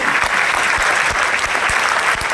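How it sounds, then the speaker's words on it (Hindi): A large audience at a JEE Main 2024 motivational session claps loudly with hands raised for their parents, a dense, continuous roar of applause with sharp individual claps standing out. "तो अपने माँ बाप के लिए हाथ ऊपर करके जोरदार ताली बजाइए"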